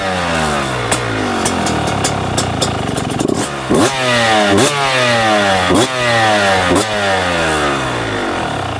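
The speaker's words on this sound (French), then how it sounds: "Démarrage à froid des motos." Motocross motorcycle cold-started by kick starter: a few uneven attempts, then the engine catches and revs up and down repeatedly in loud, close blips.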